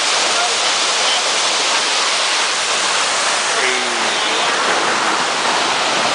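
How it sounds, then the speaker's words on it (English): A waterfall roars as a dense, constant wash of falling water, loud and close throughout, with a faint voice briefly surfacing under the rush. "Finally made it to our destination. It's the waterfall."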